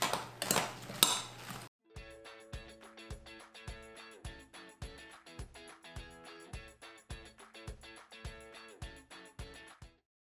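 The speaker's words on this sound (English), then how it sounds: "And then give it another stir." A spoon scrapes and clinks rhythmically around a bowl as salted vegan food is stirred, a quiet steady series of close taps after a short burst of louder handling noise.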